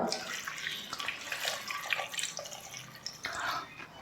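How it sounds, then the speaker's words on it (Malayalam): Water poured into a pressure cooker holding cucumber, a splashing, trickling stream in uneven bursts, close and fairly quiet. "ആവശ്യത്തിനുള്ള വെള്ളം ഒഴിച്ചു കൊടുക്കുക"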